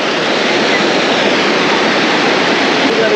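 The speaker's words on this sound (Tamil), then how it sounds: "எப்பவுமே தண்ணி வந்தே வந்தே இருக்குமா மலையில இருந்து வரதுல?" Water pours down from the mountain in a waterfall where people bathe, a loud, constant close-up roar that fills the whole stretch with no break.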